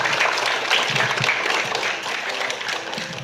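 Students at a school English club quiz clapping for a correct answer, a moderately loud, somewhat uneven patter of many hands that carries on steadily and eases slightly toward the end.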